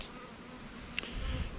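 Bees buzzing in a steady, close drone around a beehive, with a brief sharp tap partway through and the hum thickening toward the end.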